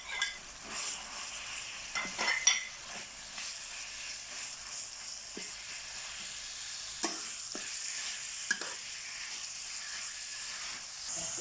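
Minced pork stir-frying with stink beans in a hot pan, a steady sizzle and hiss with occasional scraping stirs of the spatula throughout.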